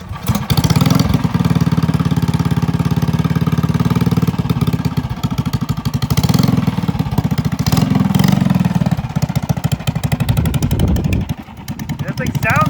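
An offroad trail mini bike with a 6,000 rpm racing motor runs loud and close, a buzzy, motorcycle-like drone that rises and falls with throttle blips before easing off near the end.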